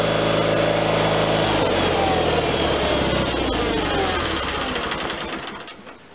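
A John Deere 318 lawn tractor with an Onan engine idles loudly and steadily nearby, its low chugging drone slowing and fading away over the final second.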